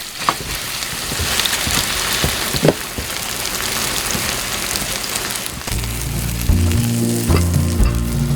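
Water parsley and squid pancake sizzles steadily in a hot oiled pan, a dense crackling fry with a few louder pops, joined near the end by a low rumbling hum.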